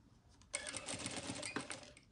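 Domestic sewing machine stitching slowly over a pin while sewing a small triangular bag, a quiet steady run of rapid mechanical ticks with a brief louder click partway through.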